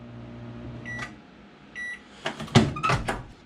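A microwave oven powered through a pure sine wave inverter in an RV, with a low steady hum, a few high beeps, then clunks and rattles of a door or cupboard, all nearby.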